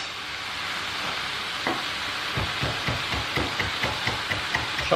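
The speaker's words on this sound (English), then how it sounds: "whilst the bacon is cooking away" Bacon fries in a pan for a steady, close sizzle, with a run of rhythmic scraping knocks in the second half as it is stirred.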